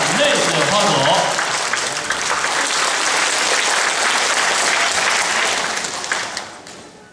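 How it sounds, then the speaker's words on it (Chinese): An audience at a Kaohsiung cultural centre concert by a community Chinese traditional orchestra applauds to welcome the conductor. The clapping is loud and continuous, then fades out near the end. "掌声欢迎"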